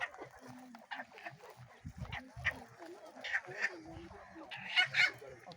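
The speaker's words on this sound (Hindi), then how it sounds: "एक मुर्गा भी इधर भी है।" A rooster clucks repeatedly in short, uneven bursts, close by, while people talk in the background.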